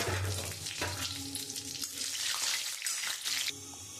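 Dry red chillies, bay leaf and cumin spluttering in hot oil in a kitchen pan, a close, crackling sizzle with sharp pops and stirring noises that drops quieter toward the end, with no voices.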